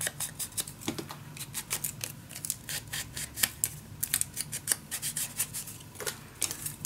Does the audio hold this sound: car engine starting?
no